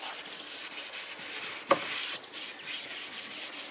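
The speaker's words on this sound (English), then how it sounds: "I should probably maybe just give it a tiny little light sand after it's dried off" Light hand sanding across an Ercol hardwood table top, a soft steady rubbing hiss that runs throughout at low level, with one sharp knock partway through and no voices.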